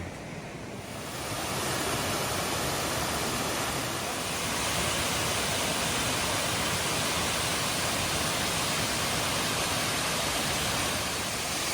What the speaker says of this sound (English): these waterfalls are so beautiful, they almost seem unnatural